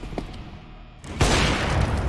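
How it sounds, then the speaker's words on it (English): A grenade thrown in the shooter game CS:GO goes off as one loud, broad explosion blast after a quieter lead-in, with a rumbling tail that keeps the level high to the end. "Throwing a grenade."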